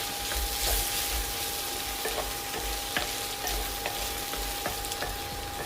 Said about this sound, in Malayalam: അതിലേക്ക് മഞ്ഞൾപ്പൊടി മുളക് പൊടി നന്നായിട്ടൊന്ന് മിക്സ് ചെയ്യാം